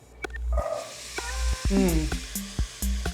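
Vegetables sizzle in melted butter for a crawfish étouffée, a steady moderate fry with stirring clicks and pan taps, while a person talks over it.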